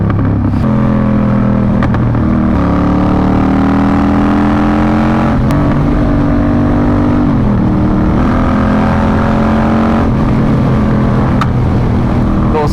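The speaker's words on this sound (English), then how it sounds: "That Vance & Hines exhaust sounds so good." A Yamaha Striker motorcycle fitted with a Vance & Hines exhaust runs close and loud, its deep engine note rising and falling through several rev changes with brief dips between throttle pulls.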